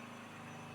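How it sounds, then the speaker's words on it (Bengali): A generator runs outside at night, giving a steady, low, droning engine hum that holds constant throughout with no voices. "আর বাইরে যে সাউন্ড পাইতেছেন সেটা হচ্ছে জেনারেটর সাউন্ড।"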